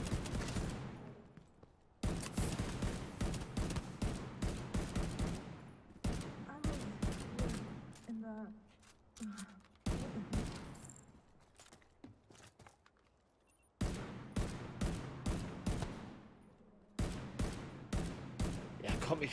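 Sustained gunfire in the shooter The Division 2, rapid automatic bursts of close, sharp shots in several long volleys separated by short pauses, with faint mechanical clicks in between and no talking.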